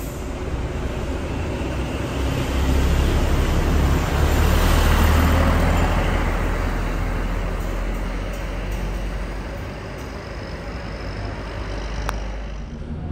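A Rosalia Indah intercity bus pulls into a roadside shelter lane with a heavy, swelling engine rumble that rises and fades, mixed with the steady roar of passing road traffic.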